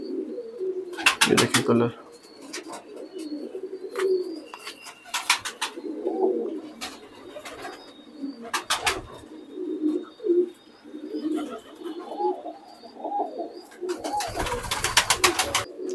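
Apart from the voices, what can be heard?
pigeons cooing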